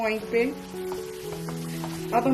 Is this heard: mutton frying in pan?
yes